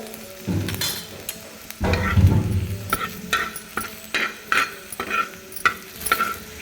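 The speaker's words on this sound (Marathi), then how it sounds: "लसूण गुलाबी झाल्यानंतर मी त्याच्यामध्ये टाकते थोडीशी हळद" Garlic and turmeric fry in hot oil in a pan, a steady close sizzle broken by repeated scraping stir strokes in a loose rhythm.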